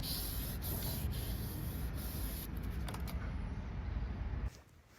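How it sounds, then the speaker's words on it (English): Hand sanding to remove damage from an anthracite window frame, a steady dry scratchy rasp running continuously at close range and stopping abruptly near the end. "we need to very carefully just sand the damage out"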